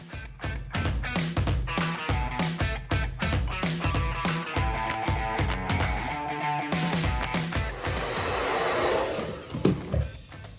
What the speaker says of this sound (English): I have the bottom 2 sections dry and as smooth as I can get them with just a brush and a blow dryer